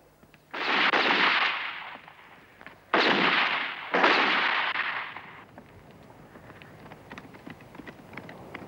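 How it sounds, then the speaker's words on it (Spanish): Three loud, close gunshot blasts with long booming tails ring out in a Spanish-language western film, about one to two seconds apart, followed by quieter hoof-like clip-clop and faint background rustle. "Los disparos me han avisado de vuestra llegada"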